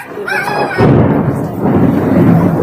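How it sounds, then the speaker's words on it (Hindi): Heavy rain with thunder, a loud thunder rumble breaking in partway and carrying on over dense rainfall noise, close and strong. "बारिश जम के पड़ रही है।"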